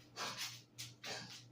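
Old dog Stella in a kitchen coughs and snorts in a fit, with three or four rough, breathy hacking bursts close to the listener and short pauses between them.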